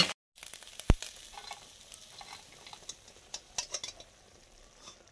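Small mourala fish fry lightly in a pan, a faint, soft sizzle broken by scattered sharp clicks and scraping taps of a utensil, with one loud clink near the start.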